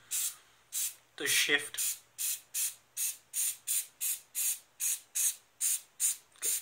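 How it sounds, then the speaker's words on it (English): Short hairspray bursts sprayed from above onto basing powder on Warhammer 40K miniatures, about a dozen evenly spaced hissing puffs close to the mic, with a brief voice partway through. "Spray it from above, not too close because you can see the powder"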